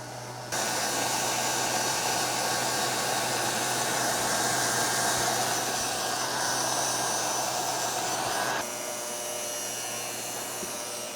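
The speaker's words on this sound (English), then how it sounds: "I reoriented the heat gun to be a little bit more towards the filler neck side" A heat gun blows continuously on a Porsche 356 gas tank sound insulation pad, a steady loud whooshing roar that switches on sharply, holds, then drops slightly in level near the end.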